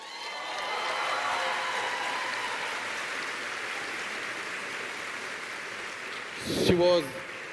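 A business school celebration audience gives steady, rain-like applause that holds for several seconds before a voice speaks briefly near the end.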